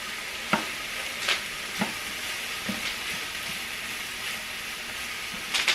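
Ground chuck sizzles steadily in a pot of beefy noodles with mushrooms and onions, with a few sharp scraping knocks of stirring scattered over the continuous frying hiss.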